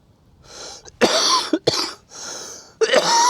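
Several harsh coughs close by, in a short series with breaths and pauses between the bursts.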